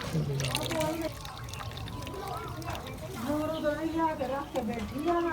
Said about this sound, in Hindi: अब पानी जो है अच्छी तरह मेथी से हम निचोड़ देंगे।